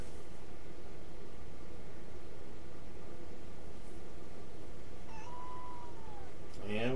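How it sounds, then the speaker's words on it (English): A house cat gives a short meow near the end, set against a steady hiss of background noise in a room where radio-controlled aircraft gear is being set up. "And we got a kitty cat saying hi."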